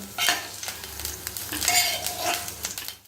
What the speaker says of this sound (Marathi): आता या पॅनमध्ये मी हे टोमॅटो भाजून घेत आहे आणि चांगले खरपूस भाजून घ्यायचे